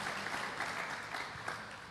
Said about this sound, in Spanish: Démosle un fuerte aplauso a nuestro Padre Celestial.